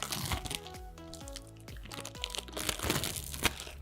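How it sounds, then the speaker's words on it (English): Crinkly plastic wrapping being pulled off a Mehron 3D Gel 8oz slab, a continuous close crackling and crumpling rustle with sharper snaps throughout. "You're just going to remove it from the plastic."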